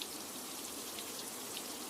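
Water from a shower spraying down in a dense, even hiss, close and steady throughout.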